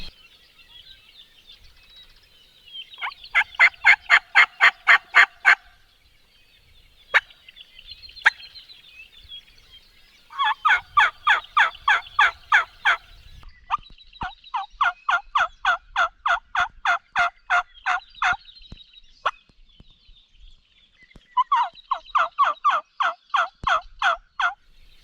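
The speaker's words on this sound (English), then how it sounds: "Above us there's turkeys gobbling, but I'm pretty sure that's a bunch of jakes." Wild turkeys gobble from the roost in Hawaii, heard as several loud rattling bursts that come in groups at moderate distance, with quiet pauses between calls.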